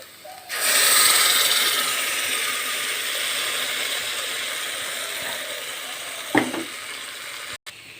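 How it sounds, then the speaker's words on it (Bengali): Ground sesame paste fries in a pan with fried onions and chillies, giving a loud, steady hiss that starts suddenly and holds throughout, broken near the end by a brief utensil clatter. "তিলটা বেশ ভাজা ভাজা হয়ে গেছে"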